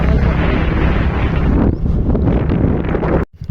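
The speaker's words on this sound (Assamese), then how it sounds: "আমাৰ ফালে কেনে এটা বতাহ দিছে চাওকচোন" Strong gusting wind buffets the microphone outdoors amid trees during a storm, a loud roaring rumble that briefly dips midway and cuts off sharply near the end, with no voices.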